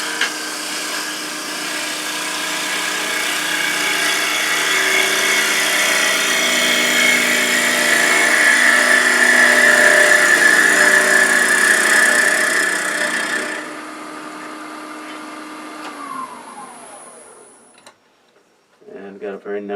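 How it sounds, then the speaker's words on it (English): A wood lathe with a small gouge taking a slow, smooth cut in crepe myrtle, giving a steady loud whirring scrape that swells over about thirteen seconds, then the spindle winds down and falls quiet. "I think I'm going to switch to a little smaller gouge. Go real slow."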